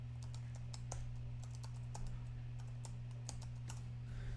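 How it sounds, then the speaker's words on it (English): Keys clatter on a computer keyboard in uneven bursts of clicks, close and fairly quiet, over a steady low electrical hum with no talking. "God, I hate this stupid keyboard."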